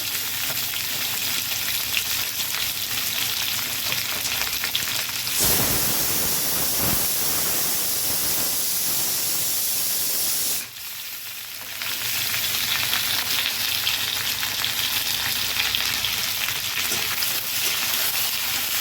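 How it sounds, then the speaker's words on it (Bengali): Ground spice paste for a pointed gourd and prawn korma fries in a pan with a loud, steady broadband sizzle, a brief louder hiss as it goes in, a short dip, then continuous frying with no voices. "বাটা মশলাটা দিয়ে দেবো।"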